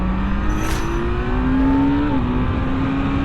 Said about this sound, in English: all these downshifts are really clunky